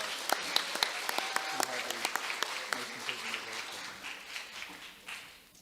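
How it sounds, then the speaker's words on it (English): An audience at a middle school awards ceremony applauds the straight A students, with steady clapping that sharpens in spots and trails off toward the end, under some faint chatter. "Let's give our straight A students a round of applause."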